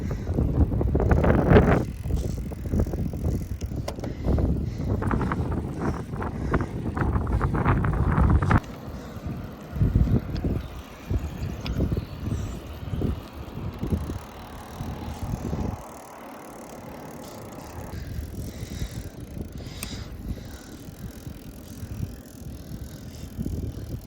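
Someone riding a bicycle outdoors, steady wind roar and road rumble with tire and drivetrain noise throughout, easing and quieting partway through, close to the microphone with no talk.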